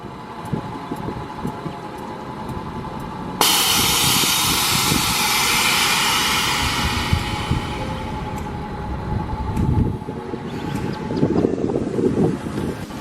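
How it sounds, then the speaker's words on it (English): Air suspension on a Nissan 350Z fitted with an Airlift 3P system, deflating in a sudden loud rush of escaping air that holds steady for several seconds. The hiss then tapers off beneath low rumbling background noise. "So this is all the way aired up. And I'm gonna air it down."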